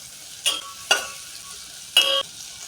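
Spoon stirring carrots, potatoes and peas in a pan for pulao, three separate scraping strokes with light sizzling in between, close and unaccompanied by voices.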